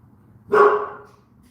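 One sharp bark from a dog indoors near a sliding glass door, close and loud, rising suddenly from a quiet room hum and fading quickly.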